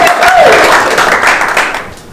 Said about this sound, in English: Loud stormy applause